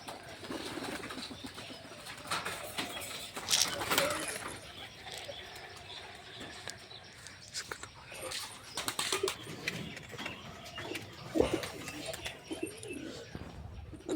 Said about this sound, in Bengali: আর পায়রাগুলো এখন সব খেতে দেবো বাইরে